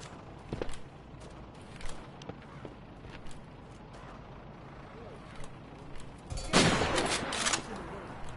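Sniper rifle fire in a first-person shooter game, a few scattered sharp shots followed by a louder burst of gunfire near the end, heard under a busy game mix.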